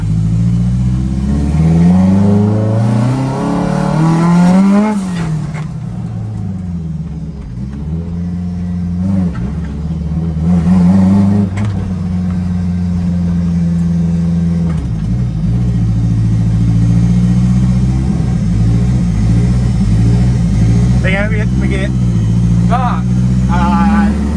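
Subaru Impreza drag race car of over 700 horsepower, revving hard up close: the engine roars and climbs in pitch several times, then drops back to a heavy idle, with voices heard over it.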